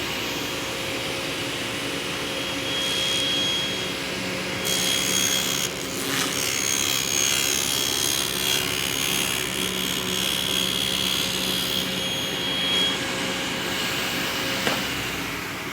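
A power saw cuts a quarter-inch-deep kerf through a wooden workshop wall cabinet piece, a loud steady whining drone running almost sixteen seconds with no talk.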